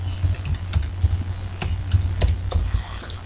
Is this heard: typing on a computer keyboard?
yes